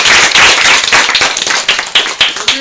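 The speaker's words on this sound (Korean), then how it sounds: "힘찬 박수로 맞이해 주시기 바랍니다." Audience at a school Human Library talk claps loudly to welcome the student council president, a dense burst of hand claps thinning into scattered claps near the end.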